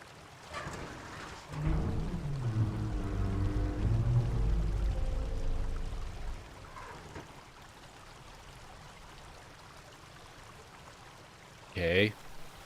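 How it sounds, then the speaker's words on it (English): Flowing water in the video game Obduction, a loud rushing, pouring flow that swells for several seconds and then drops away to a faint murmur, followed by a brief sharp sound near the end. "So that changes the flow of the water"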